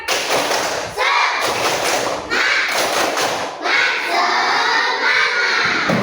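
A classroom of schoolchildren claps the rhythmic 'tepuk semangat' chant together, loud and close, in repeated bursts of sharp claps and thumps with their voices chanting along.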